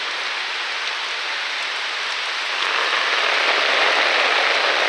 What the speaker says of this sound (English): That's the rain on my umbrella